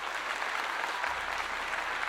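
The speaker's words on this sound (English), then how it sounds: "So let's give them a cheer for that." A crowd applauds and cheers steadily and loudly throughout, with no talk over it.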